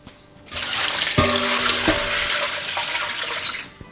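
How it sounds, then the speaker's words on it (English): Tap water pours steadily into a large stock pot for turkey carcass broth, a loud continuous rush with a few clanks of the pot, alone without talk. "And I'm going to put enough water in here."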